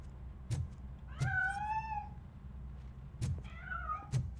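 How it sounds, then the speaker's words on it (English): A cat meows in the RoboCop: Rogue City video game, giving two rising and falling meows about two seconds apart with soft thuds around them and no talking. "That cat must be hiding inside."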